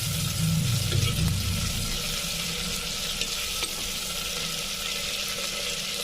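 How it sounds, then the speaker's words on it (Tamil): Onion and tomato sizzle and fry in a pan, a steady close crackle with faint stirring, louder in the first second and then holding even to the end. "வெங்காய தக்காளி எல்லாம் வதங்கிடுச்சு"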